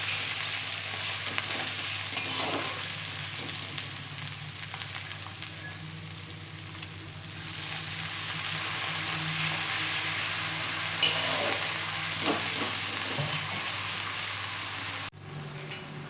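Wet spice paste fried and stirred in a pan for a coriander tilapia dish; a steady, close sizzle runs throughout, punctuated by occasional scraping and knocking of the spoon, with no voices.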